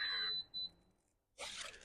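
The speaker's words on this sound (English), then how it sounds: "So you can hear the motor's whirring and the beeping." A beep sounds twice in quick succession from a Range Rover Velar D300 as its electric tow bar deploys, followed by a faint pause and a burst of whirring motor noise, all quiet and close.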